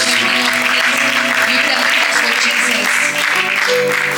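A church congregation applauds and cheers for Jesus during a worship service, with loud, sustained, dense clapping and crowd noise held steady throughout, along with a faint musical tone underneath.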